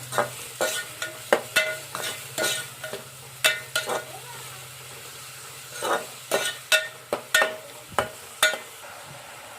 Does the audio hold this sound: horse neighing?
no